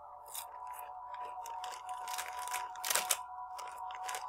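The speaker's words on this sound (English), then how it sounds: "I'm eating Doritos popping jalapeno flavor." Doritos Popping Jalapeño flavor chips crunching in a series of close, crisp bites and chews, with a louder crunch near the end over a steady background hum from a horror game.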